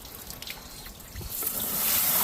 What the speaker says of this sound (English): I'm just going to give it another rinse and give the stones another quick rinse.